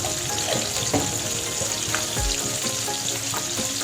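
Chicken frying with salt in a pan, a steady, close sizzle that runs unbroken with a few soft clicks and stirring touches.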